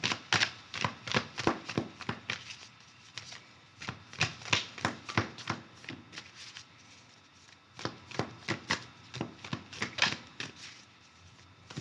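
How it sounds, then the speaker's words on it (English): Tarot cards being shuffled in rapid, uneven bursts of crisp riffling slaps, close and fairly quiet, with brief pauses between runs and no talking. "I'm going to pull some clarifying cards."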